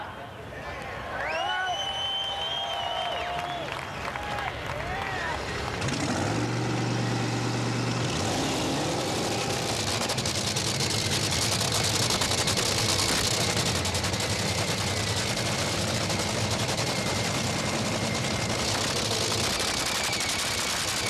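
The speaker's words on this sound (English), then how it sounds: "the engine's fired to life" Top fuel dragsters firing up their nitro engines for a first-round eliminations pair at a drag race, a loud sustained roar that builds and holds steady under a crowd and an announcer's voice.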